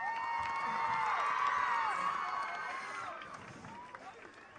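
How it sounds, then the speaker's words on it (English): A school celebration crowd claps and cheers in a dense, close burst that swells, then gradually thins and fades toward the end, with shouting voices mixed in. "Please give them a big round of applause."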